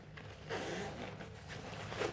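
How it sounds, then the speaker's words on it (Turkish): Zipper on a Deuter hiking backpack, a soft short rasping pull or two close by, quiet and without talking. "Onun dışında burada farklı bir fermuar var."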